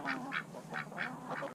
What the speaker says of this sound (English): Muscovy ducks